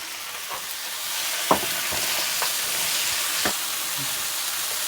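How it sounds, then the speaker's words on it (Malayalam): Soaked soya chunks dropped into hot frying masala in a pan, a continuous sizzle with a few sharp scrapes and clinks of stirring. "ഇനി നമ്മളതിലേക്ക് കുതിർത്ത് വെച്ച സോയാബീൻ ഇടുക"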